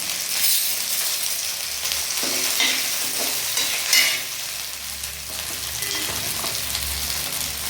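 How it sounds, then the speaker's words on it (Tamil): Chana dal tossed into half-cooked onions in a pan for coriander chutney, crackling and sizzling up close while a spoon stirs and scrapes, with a few light clinks and no speech. "இந்த கடலைப்பருப்பு போடுறோம்."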